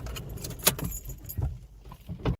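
Keys to a Vauxhall Astra jangling in a few short metallic bursts, close and fairly faint, with quiet rustling between them.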